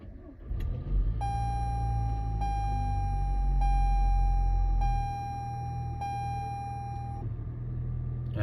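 Toyota Highlander with a 2.4 litre turbocharged four-cylinder, push-button started: a low, steady engine rumble that swells and then settles, while a dashboard chime beeps evenly about once a second.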